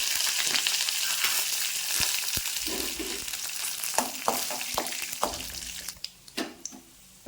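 Curry leaves dropped into hot oil with chana dal and small broken dried red chillies for a yellow pumpkin stir-fry, a loud crackling sizzle with sharp pops and stirring knocks that gradually settles down.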